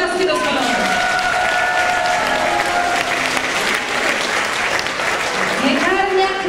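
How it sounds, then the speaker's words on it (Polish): An audience at a Silesian pre-Lent carnival celebration applauds loudly and continuously, a dense wash of clapping from many hands with voices and other sounds mixed in underneath. "Oklaski do stołu."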